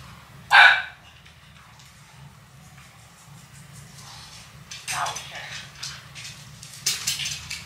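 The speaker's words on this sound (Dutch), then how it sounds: "Oh, nog een hondje." A dog gives one sharp, loud bark near the start, followed by fainter, scattered barks and yips later over a low background hum.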